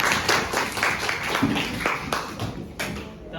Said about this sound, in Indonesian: kita berikan aplaus temannya